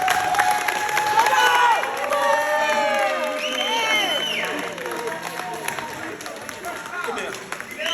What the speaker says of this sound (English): Y'all clap it up for this lady right here.